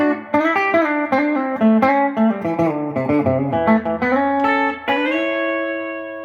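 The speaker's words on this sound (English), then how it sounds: "black panel. I'm assuming this is supposed to be like an old Fender Twin Reverb." Clean electric guitar through a Roland Cube 80X amp on its black panel Fender Twin Reverb model, with plucked notes and chords ringing in a steady phrase that ends on a sustained chord, played alone.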